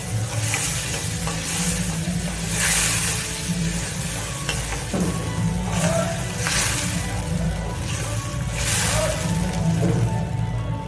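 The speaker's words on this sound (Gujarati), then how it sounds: "હવે ગેસ બંધ કરી દઈશું અને આપણે દહીં નાખીશું" A spoon stirs yogurt into a capsicum and sev curry in a pan after the gas is turned off, giving steady soft scraping and gentle wet sloshing with a faint residual sizzle, continuous and close.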